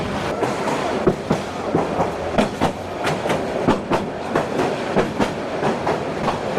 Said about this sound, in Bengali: কিশোরগঞ্জ থেকে কিন্তু ছেড়ে দিল আমাদের বিজয় এক্সপ্রেস ট্রেন